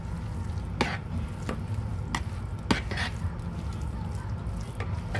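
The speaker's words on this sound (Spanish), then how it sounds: "Y ahora sí le vamos a revolver." Seasoned tilapia pieces with black pepper being stirred in a pan, a few soft scraping strokes over a constant low sizzle and hiss, close and fairly quiet.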